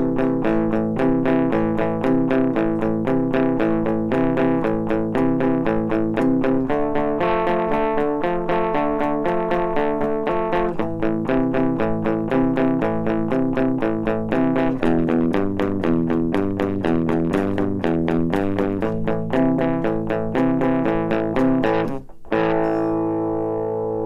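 Steady, percussive guitar rhythm in a roots music style, played with palm muting across nearly all strings and a distorted, chorused tone, repeating up to full speed for about twenty seconds before stopping abruptly.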